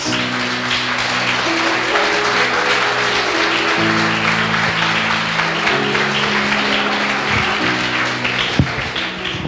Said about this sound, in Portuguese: Então dê uma salva de palmas ao Senhor Jesus.